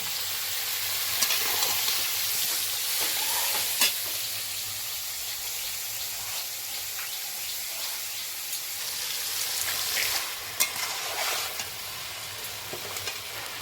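Spices fry in a pan for a mutton fat curry, a steady moderate sizzle with occasional scraping clicks as the mixture is stirred.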